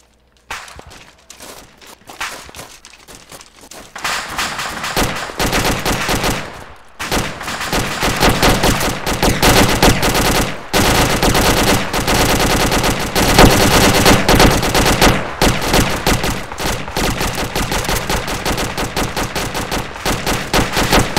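Gunfire in the military game Arma 2, sporadic shots at first building into loud, sustained bursts of automatic fire and rifle shots, with footsteps and clatter among the volleys.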